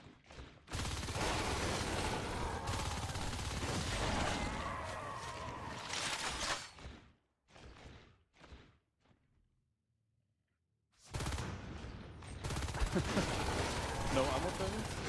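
Bursts of gunfire from the NS2 marine side fill the clip, dense and loud for several seconds, then break into scattered shots, a short lull, and a fresh heavy volley.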